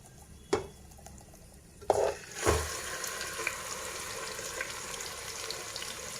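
Marinated chicken goes into a pot of frying onions, setting off a sharp sizzle after a couple of splashing drops. A steady crackling fry follows, close and moderately loud.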